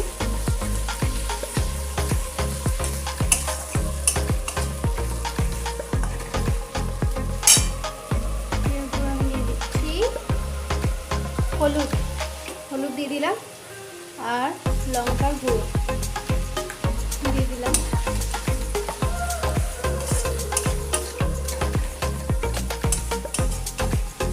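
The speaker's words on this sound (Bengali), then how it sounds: "আদা রসুন বাটা তেলে ভেজে নিচ্ছি" Ginger garlic paste fries in oil with tomato in a home kitchen, a continuous close sizzle broken by frequent spatula scrapes and stirring clatter, with one short quieter gap.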